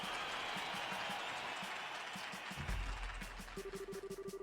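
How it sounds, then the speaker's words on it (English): Crowd applause in the game Trails in the Sky, a steady wash of clapping from many hands that later thins into rhythmic, evenly spaced claps over a low musical tone. "let's hear a big round of applause for the victors!"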